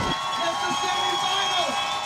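Crowd at a high school football playoff semifinal at the Titan Coliseum, Rayne High at Lakeshore High, roaring steadily throughout, with a voice talking over the continuous cheering.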